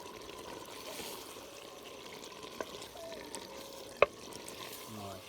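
A potato and carrot curry, seasoned with garam masala, is stirred gently in a pot while cooking village style. A faint, steady simmering hiss carries a couple of soft clinks from the spoon.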